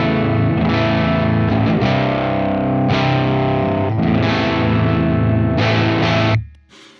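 A Squier Jazzmaster tuned down to A standard played through an amp, clean and unaffected, sounding a series of low, sustained chords and notes up close before the sound cuts off abruptly at the end.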